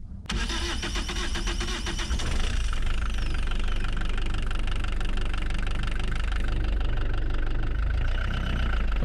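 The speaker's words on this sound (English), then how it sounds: "once you get the engine running as well" A Volvo Penta boat engine runs steadily after fuel injector servicing, a loud, continuous mechanical drone with knocking texture that settles into an even idle, close and alone with no voices.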